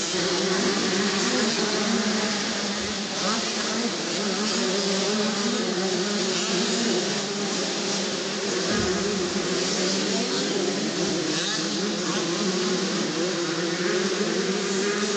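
Gas Gas and Husqvarna motocross bikes racing, a continuous high, buzzing engine whine from several bikes heard from a distance, steady and fairly loud with no talk.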